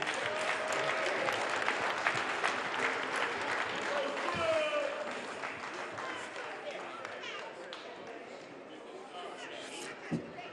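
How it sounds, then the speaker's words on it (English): A crowd at a community boxing event applauds as coaches enter the ring, the clapping dense at first and thinning gradually, with a voice talking over it. "Give them a round of applause as they enter, y'all."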